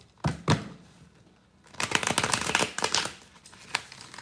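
Tarot cards being shuffled by hand, with a couple of sharp taps followed by a run of dense, riffling card flutters, close and moderately loud, with no voices.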